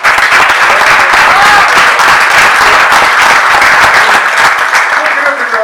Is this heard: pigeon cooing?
no